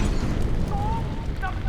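A frag grenade detonates in a military video game set in the Vietnam era, a heavy rumbling boom that fills the whole moment and trails off into a low roar.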